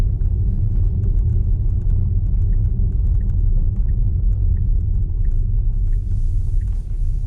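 A Tesla running FSD Beta drives on a snowy road, giving a steady low tyre and road rumble inside the cabin with faint small ticks, no voices.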